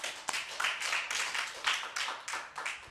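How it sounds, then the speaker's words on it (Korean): A church congregation claps together in a steady, rhythmic beat, a fairly dense run of sharp claps heard throughout, with no talk over it. "하나님께 영광의 박수 돌리겠습니다."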